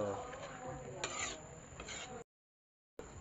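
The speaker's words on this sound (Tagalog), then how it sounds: "Ay, wala akong tigil na halo." A utensil stirs and scrapes alamang (tiny shrimp) cooking in a pan over charcoal, making a steady rasping, sizzling rub that stops briefly, then resumes.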